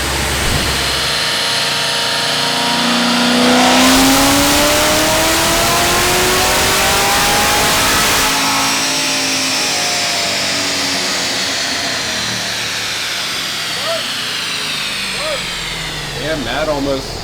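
A supercharged LT4 V8 with a 2650 blower and stock cam revs hard on a dyno, its pitch climbing through a long pull before easing off and fading with a few pops, with people talking over it.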